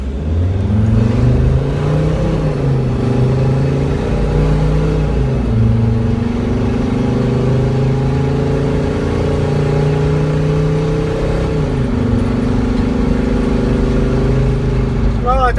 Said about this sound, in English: Now I'm gonna drive it home and see if this will go into limp mode by now